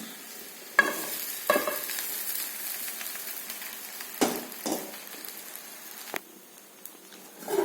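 Dry steamed pearl millet and black kavuni rice flour for puttu tumbles into a pan with a few soft thumps and scraping stirs, a faint hiss of heat underneath, close by and fairly quiet.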